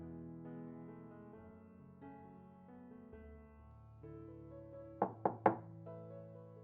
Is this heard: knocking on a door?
yes